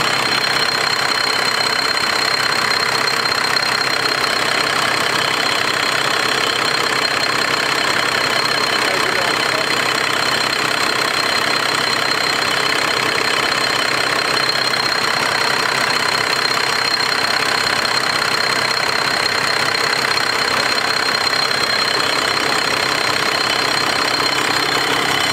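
A used Cummins diesel engine with heavy blow-by idles steadily throughout, a constant rough mechanical drone with broad hiss and no breaks, heard close with no clear talk over it.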